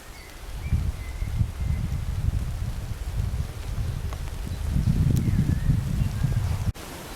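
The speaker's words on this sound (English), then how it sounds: "Hope you can hear the rain. It is really tipping down." Heavy rain falls in a Kent bluebell wood, a dense steady patter through the trees with low rumbling gusts, fairly faint and continuous, with no voices.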